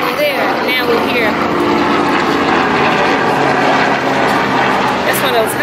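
A tour helicopter over Disney Springs makes a loud, steady rotor and engine drone that holds throughout, while people talk nearby over the noise.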